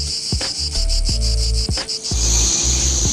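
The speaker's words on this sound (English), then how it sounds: "the cicadas are coming, and it won't be long before we'll be asking the insects to turn down the volume" Loud, pulsing periodical cicada buzzing close by, rising into a continuous droning whine, with low thumps underneath.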